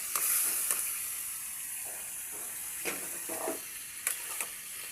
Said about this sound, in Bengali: দিয়ে দিচ্ছি সবজি।